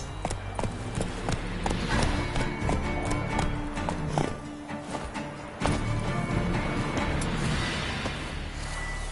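Roach the horse galloping in The Witcher 3, a steady rapid clip-clop of hooves running continuously at close range with light game ambience.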